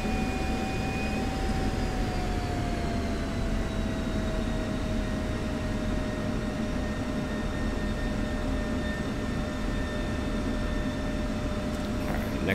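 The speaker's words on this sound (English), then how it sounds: "I'm gonna go ahead and taxi the airplane and point it" An F-16C jet taxiing in the DCS flight simulator, a steady, loud engine roar with a constant whine that dips slightly in pitch early on, continuous and close without talk.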